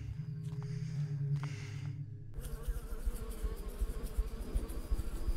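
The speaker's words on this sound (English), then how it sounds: "I hear bees." Buzzing bees in a video game, a close droning hum that starts after a short stretch of quieter ambient tones and continues steadily to the end.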